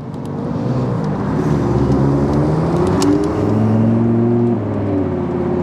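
An Italian car's engine idles and revs as it warms up on a cold start, a steady close rumble with rising and falling whirring tones throughout, no talking.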